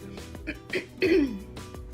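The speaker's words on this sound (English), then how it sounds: "Sorry for clearing my throat." A person clears their throat with a couple of short, rough, gravelly bursts, close and fairly quiet.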